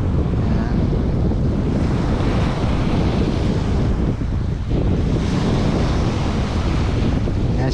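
Strong wind buffets the microphone over choppy water washing against the shore, a loud, steady roar with no pauses, heard while fishing for striped bass.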